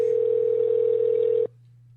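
A telephone plays a steady, loud electronic tone for about one and a half seconds while a call is placed, then it stops, leaving a low hum.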